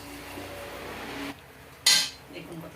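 Metal utensils and a pan clatter while fried kundri (ivy gourd) is lifted out, with a steady sizzling background, then a quiet gap and one sharp, bright clink up close.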